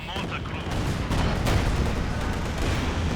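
Artillery bombardment from two IS-2 heavy tanks in a Company of Heroes 2 match, dense overlapping booms and gunfire rumbling continuously, loud and layered, with battle noise filling the whole stretch.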